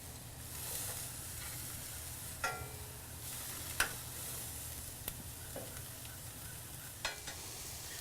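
Shish kebabs sizzle on a hot grill with a steady close hiss, broken by a few sharp pops and crackles spaced a second or two apart. No voices are heard.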